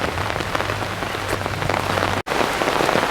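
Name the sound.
heavy rain falling on an umbrella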